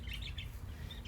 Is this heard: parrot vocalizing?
yes